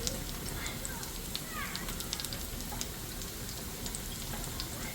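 Ginger and green chilies frying in a pan for qeema karela, a steady low sizzle and crackle running throughout with small pops, faint and continuous with no talk over it.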